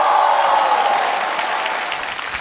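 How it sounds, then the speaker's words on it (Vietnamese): An audience at a televised comedy talent show on stage claps steadily as the first contestant is welcomed, a dense, even wash of applause that fades slightly toward the end. "Và một tràng pháo tay để đến với thí sinh đầu tiên."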